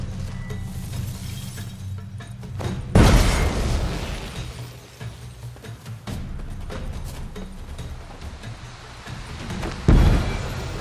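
Bomb explosions in The Witcher 3 game, two sharp, loud booms about seven seconds apart, each with a crackling burst that trails into a low rumble over quieter ambient game sound.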